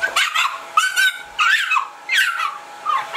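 A Shiba puppy barks and yips during its first bath, giving five loud, close, high-pitched barks in an uneven rhythm with short pauses between them.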